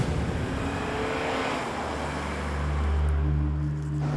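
A car engine with a fault gives off a rough, droning hum that swells and deepens toward the end, heard loud and close without any speech.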